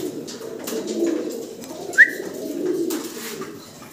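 Soft, low cooing from fancy pigeons, including Lahori and helmet Danish birds, rolls on steadily nearby, with one brief higher chirp midway.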